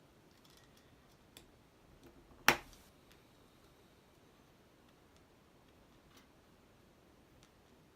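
A single sharp snip as excess toothpick is cut off on a UGears Roadster wooden mechanical model, one crisp click in an otherwise quiet room with a faint tick beforehand.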